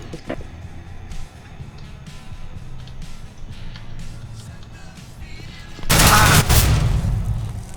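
A flashbang going off amid gunfire in a police-themed shooter video game: a low background of game noise and faint shots, then a sudden loud, broad burst of blast and rapid firing near the end.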